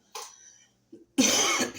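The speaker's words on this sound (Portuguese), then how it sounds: "Ficar tossindo aqui pra vocês." A woman coughs several times, with a short first burst, a brief pause and a small throat sound, then a louder, harsher cough close to the microphone.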